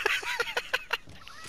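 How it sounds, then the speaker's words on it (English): Chicken in the Fortnite video game giving a rapid run of sharp, honking clucks, about six loud squawks in quick succession before they trail off. "Oh my god, oh, shut up, chicken!"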